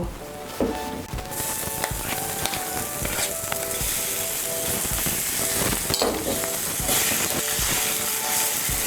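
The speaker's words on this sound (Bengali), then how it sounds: "আলুটাকে তেলের সঙ্গে ভালো করে মিশিয়ে নেব।" Mashed boiled potatoes stirred into hot oil in a pan, a continuous loud sizzle with repeated scraping and clicking spoon strokes throughout.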